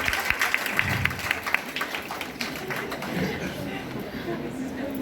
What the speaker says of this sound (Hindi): मैम थोड़ा ताली बजाइए तो आप.